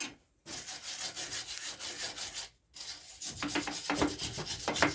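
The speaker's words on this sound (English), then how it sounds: "grab my tongs, grab my wire brush," A wire brush scrubs hot forged metal in quick back-and-forth strokes, a harsh scratchy rasping close by, pausing briefly twice before resuming.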